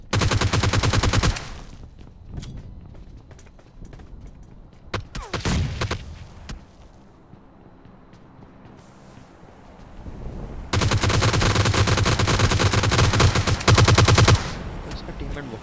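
Gunfire from the video game PUBG Lite comes in loud, rapid automatic bursts separated by quieter stretches, with a long sustained volley near the end.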